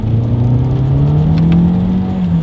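A 2023 Toyota Corolla Hatchback engine rising steadily in pitch as it accelerates from first gear in manual shift mode, a smooth continuous drone heard from inside the cabin with no gaps.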